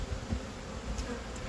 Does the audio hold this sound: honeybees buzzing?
yes